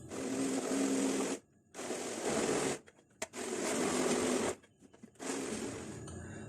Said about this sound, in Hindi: कोकोनट और ब्राउन शुगर डाल के इसको बहुत अच्छी तरह से ब्लेंड कर लेंगे